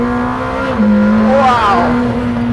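McLaren Senna or 720S road-legal sports car driven hard around a circuit, its engine holding a loud, steady high drone that dips briefly and then climbs again as it powers through a corner.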